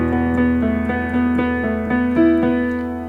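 Piano plays a bar of even, straight crotchets in the right hand over sustained lower notes, a steady, evenly spaced run of struck notes, close and clear with no voices.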